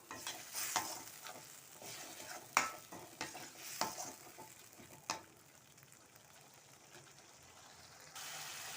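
Masala and chili powder are stir-fried in oil in a pan for mutton pepper fry, soft sizzling under several sharp scraping strokes of a spoon during the first five seconds, then a quieter steady fry.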